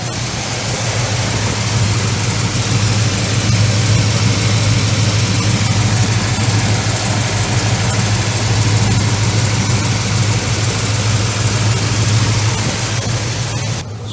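A Dodge Charger's engine idles at its first start of 2023, a steady, close, unbroken rumble that holds evenly throughout with no one talking.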